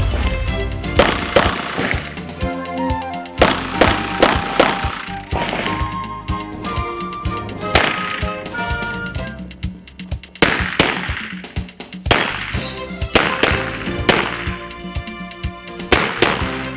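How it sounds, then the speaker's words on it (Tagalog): Rapid volleys of gunshots crack out in bursts during a firing competition at the opening of a shooting range at Hannah's Beach Resort and Convention Center, with competitors from Villamor Air Base and Kuwait Air Base. Shots are loud and sharp, sometimes in quick strings. "Kasabay ng pagbubukas ng mga Tira shooting range dito sa Hanas Beach Resort and Convention Center ay naganap din ng isang firing competition"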